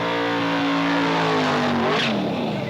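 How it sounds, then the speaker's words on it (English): A supercharged 1966 Pontiac does a burnout at a car show finals event in Orlando, its engine roaring loud and sustained with a rising, shifting whine as the revs climb. "Supercharged burnout by Linwood Woods 1966 Pontiac."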